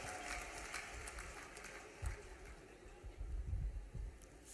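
A rally crowd in Khargone claps for Modi, faint and distant, a soft steady patter of applause with a few louder swells.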